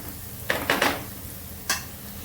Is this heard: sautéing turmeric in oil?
yes